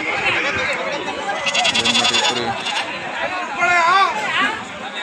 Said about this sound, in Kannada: ಕುರಿಗಳು